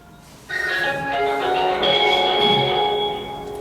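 A telephone rings during a live online broadcast, a loud, sustained melodic tone that starts suddenly and holds steady for several seconds with no voices over it.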